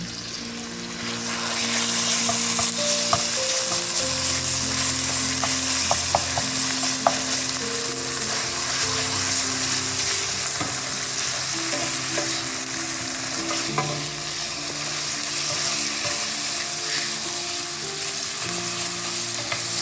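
Shredded beef frying in a pan during a home-cooked Korean BBQ meal, with a continuous close sizzle and occasional light stirring clicks, steady for the whole stretch.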